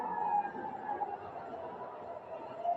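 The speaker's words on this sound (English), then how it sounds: "These sirens sounding across the city." Wailing air-raid sirens drift across a wide urban space during incoming ballistic missile fire, steady and moderately distant, layered with a low rumble of background noise and no talking.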